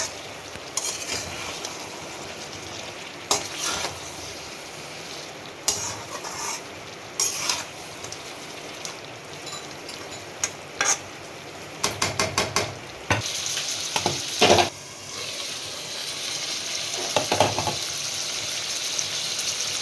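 Mutton cooks in a pan over a medium gas flame with Kashmiri spices and chilli. A close, continuous sizzle runs throughout, broken by repeated bursts of scraping and clattering as the meat is stirred.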